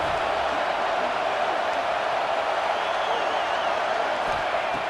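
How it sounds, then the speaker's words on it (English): Stadium crowd in a John Madden college football video game, a Penn State dynasty, rendered as a steady, dense roar of massed voices that stays loud and even throughout, with no single shouts standing out. "Listen to the crowd energy here in the early going."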